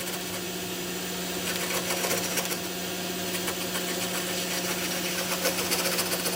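A turnip spun on a wood lathe and cut with a chisel: a steady motor hum with a continuous rough scraping and chattering texture, loud and close, briefly intensifying in bursts, without speech.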